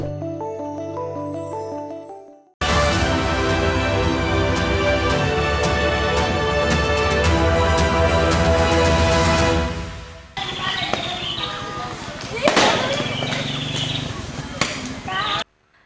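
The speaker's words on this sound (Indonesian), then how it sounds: "Suara ledakan petasan bersahutan memecah keheningan" Firecrackers exploding in a street in Mataram, NTB, as rival youth groups chase and attack each other, a dense roar of loud blasts and crackling for several seconds, then scattered sharper bangs amid background commotion.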